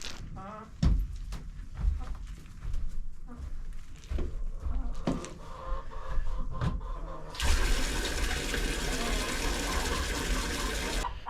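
Water poured to refill a chicken waterer outdoors, a rushing gush that starts partway through and runs steadily to the end, preceded by scattered handling knocks and a voice talking.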